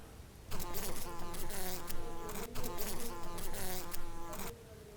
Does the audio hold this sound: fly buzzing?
yes